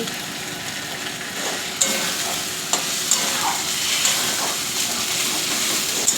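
Potatoes sautéing with spices in hot spattering oil, a dense steady sizzle with sharp periodic clicks from a spatula scraping and tapping the pan, close up and without talk.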